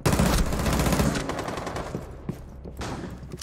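Rapid automatic gunfire in Rainbow Six Siege comes as a loud, dense burst of shots that thins out into scattered, fainter cracks, with no talking.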